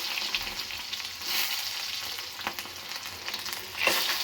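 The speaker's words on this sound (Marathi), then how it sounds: "जिरं तडतडलं की त्यात मी टाकत आहे लसूण" Garlic fries in oil with cumin in a pan for okra bhaji, a close, continuous sizzle with crackling bursts and occasional stirring scrapes.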